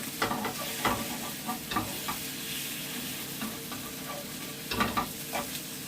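Beef searing in a pan for a hearty yam stew, a steady close sizzle broken by repeated scraping stirs and clatters, with no talking.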